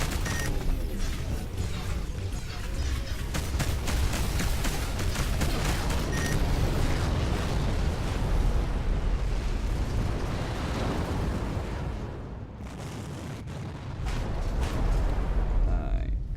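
A massive weapons barrage in the space video game Between the Stars roars as a dense, continuous wall of rapid blasts and explosions, loud and close, briefly dropping away before resuming.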